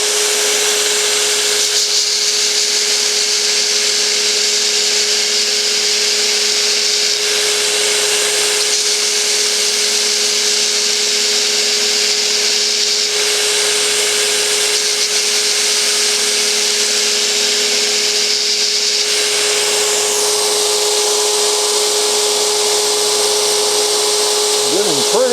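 A cowboy dagger blade is ground toward its upper grind line on a powered grinder, which gives a steady, loud, continuous whine that holds unbroken the whole time, with a slight shift near the end, and no talking over it.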